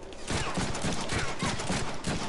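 Rapid bursts of gunfire in the Deadpool video game, a dense, continuous volley of shots filling the whole stretch at steady loudness, with no talking.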